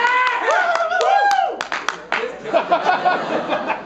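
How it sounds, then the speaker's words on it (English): Lively comedy-show audience clapping, whooping and laughing in a small room, loud and bursty, with voices shouting over the applause. "let's clap it up"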